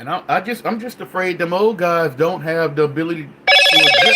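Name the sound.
telephone ringing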